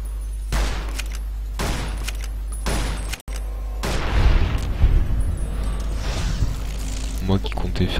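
Gunfire in Fallout New Vegas, several loud booming shots and bursts of fire amid game noise, with a person talking over much of it.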